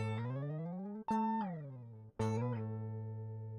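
Electric guitar played with a slide, sounding three sustained distorted notes that glide and bend in pitch, each cut by a short break before the next slide, loud and alone.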